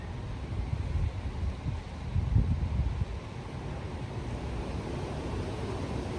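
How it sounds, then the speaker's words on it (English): Soft, steady wind washes through at low level, swelling briefly midway before settling into an even rushing hiss. "Hear that wind"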